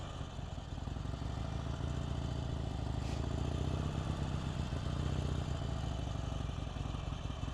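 A motorcycle engine putters steadily at low speed during a slow-speed riding skills practice session in California, the rider working friction zone and rear brake with constant nearby engine noise and faint clatter throughout.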